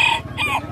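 A short, loud rooster crow rings out close by at a bird market in Haripur, with no other sounds around it.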